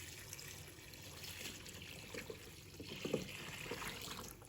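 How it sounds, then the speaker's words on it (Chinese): Clean water pours into a bowl of cut pumpkin pieces sprinkled with salt, a faint, steady trickle and splash with a slight swell near the middle, heard alone and close. "倒入清水没过南瓜"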